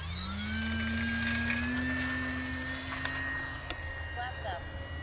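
An H-King Savage Bobber compact STOL RC airplane flies overhead, its electric motor giving a steady high whine with a rising tone that stays fairly loud throughout, while people talk nearby.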